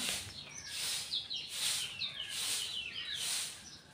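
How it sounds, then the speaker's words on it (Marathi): Morning birds chirp and tweet in quick, repeated bursts, faint and somewhat distant, over a quiet background with no speech. "सकाळी सकाळी पक्ष्यांचा किलबिल तुम्हाला आवाज येतच असेल बॅकग्राऊंडला बघा."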